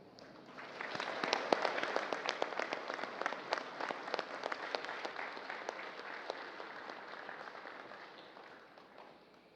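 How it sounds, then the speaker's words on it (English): Warm applause from a military ceremony crowd at Camp Aguinaldo greets the President of the Philippines, dense clapping swelling after a quiet start, holding steady, then tapering off. "please welcome with a warm round of applause the President of the Republic of the Philippines, Ferdinand Romualdez Marcos Jr."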